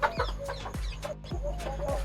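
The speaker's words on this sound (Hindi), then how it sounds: "ये हमारी सोनाली मुर्गी है, सोनाली ब्रीड की।" A Sonali breed hen clucks repeatedly in short, close bursts, with a steady rhythm of sharp calls over faint background farmyard noise.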